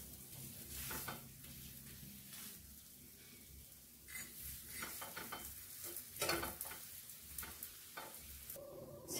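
Thalipeeth flatbread of sorghum, rice and gram flour roasting in an oiled pan, with a soft continuous sizzle broken by scraping and stirring bursts from a spatula and occasional clinks of cookware, close and fairly quiet.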